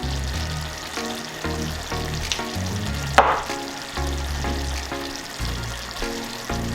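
Boneless chicken fries in a pan with sweet chili sauce added, giving a steady close sizzle with rhythmic stirring scrapes and one sharp clatter midway, no voices.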